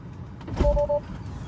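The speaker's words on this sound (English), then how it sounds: "Now, I want you to open the driver's door." A Tesla driver's door opens with a short, quiet electric whir lasting under half a second over a soft cabin hum.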